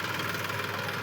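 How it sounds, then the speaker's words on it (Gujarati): A Massey tractor engine idles steadily, a constant low mechanical rumble with faint knocking vibration running evenly through the short stretch, fairly close, with no voices over it. "ટ્રેક્ટર મેસી છે"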